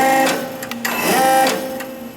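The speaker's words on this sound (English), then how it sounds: "If I exceed the breakpoint setting, the large motor activates" A large electric motor in a REXA actuator on a steam turbine control system runs steadily, with a mechanical whir and tonal hum that swells briefly mid-run before settling, close and fairly loud.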